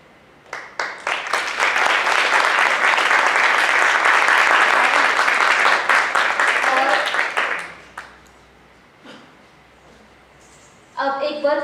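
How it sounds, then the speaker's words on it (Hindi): Audience applause at a children's play performed by girls from a shelter home, a dense burst of many clapping hands that swells, sustains for several seconds, then fades out, followed by a short spoken voice at the end. "तालियों की गड़गड़ाहट के साथ हम संघमित्रा जी का स्वागत करेंगे"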